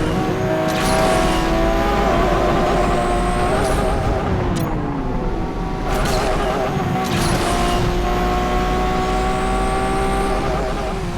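A Lamborghini Veneno racing a McLaren in Asphalt 8 roars at high revs, its engine pitch rising and dropping through gear shifts, with brief whooshes and tire noise over loud game music.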